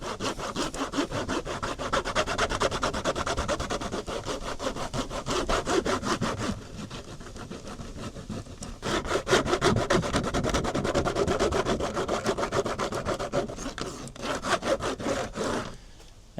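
A chunk of beeswax is rubbed hard onto a plastic hive frame foundation in fast, steady back-and-forth scraping strokes, close up, with a short pause midway and no talk.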